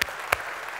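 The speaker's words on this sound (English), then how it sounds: "I think we should give Winfried a, another round of applause" Panel discussion audience gives another round of applause, a brief steady clapping wash with a couple of sharper individual claps standing out.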